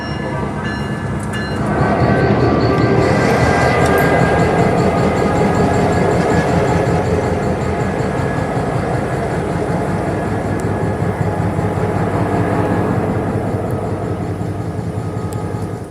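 A loud, steady diesel rumble from a locomotive idling close by, with a constant low drone and a faint whine on top, no voices.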